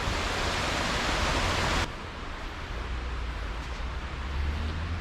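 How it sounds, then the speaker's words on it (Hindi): Waterfall at Eco Cave Park in Nainital, water dropping from a considerable height, a loud, constant broadband roar close by that eases slightly partway through but never stops. "पानी की आवाज़ तो आपको आ ही रही होगी,"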